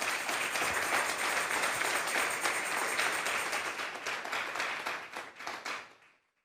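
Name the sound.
congregation applauding in church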